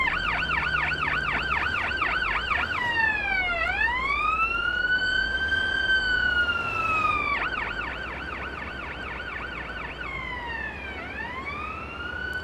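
An ambulance siren in the paramedic simulator game Ambulance Life: A Paramedic Sim wails loudly and continuously, alternating between a rapid yelp and slow rising-and-falling sweeps over a low engine drone.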